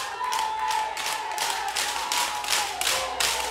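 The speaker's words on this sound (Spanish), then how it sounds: "Saliendo con aplausos, saliendo con ovación" A crowd at a regional Peewee youth baseball game applauds steadily as a player leaves the field, a dense run of many hands clapping across the whole stretch with faint cheering mixed in.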